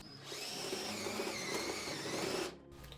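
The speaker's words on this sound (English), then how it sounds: "now we can get the step bit out and we can make that hole just a little bit bigger" A power drill fitted with a step bit widens a hole in the metal case of a MikroTik CRS328-24P-4S+ network switch. It runs as one steady, close whine for about two seconds, then cuts off abruptly.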